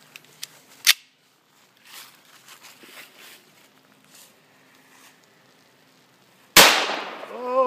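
Shots from a Hi-Point .45 pistol at an outdoor range: a sharp crack near the start, quiet movement between, then a loud close blast with a ringing, decaying tail at the end.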